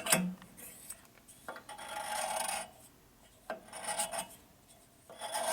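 A valve seat being cut by hand on a 1965 Harley-Davidson panhead cylinder head, rasping strokes in bursts with short pauses between, close and fairly quiet, no talking.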